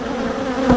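Honeybees buzz steadily and densely at a beekeeper's hive boxes, a close, continuous drone with no talk.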